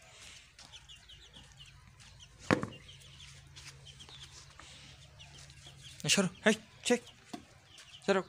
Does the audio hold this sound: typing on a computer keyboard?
no